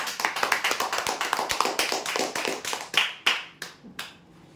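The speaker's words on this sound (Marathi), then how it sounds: "जोरदार टाळ्या होते यासाठी" A crowd applauds prize winners at a weekly lucky draw in Chandrapur, with dense, loud clapping that thins into a few scattered, separate claps near the end.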